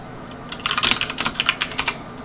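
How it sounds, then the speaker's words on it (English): Quick bursts of clacking on a computer keyboard, a close rapid run of keystrokes with brief pauses, no voices. "I'm typing in the Discord right now that these are good games."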